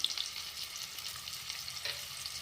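A quiet, even sizzle comes from onions and green chillies frying in oil, with faint crackling and no voices.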